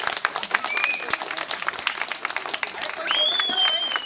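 A group claps at an outdoor birthday picnic, a dense, steady patter of hand claps with a few bird chirps whistling above it near the end.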